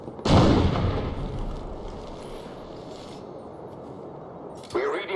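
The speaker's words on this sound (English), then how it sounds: "Flashbang out!" A flashbang grenade going off in Ghost Recon Wildlands, one loud sudden blast that fades into a long ringing rumble, then another sharp noise near the end.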